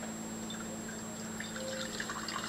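Liquid drips and trickles through layers of cheesecloth into a big bowl, faint scattered droplets over a steady background hum.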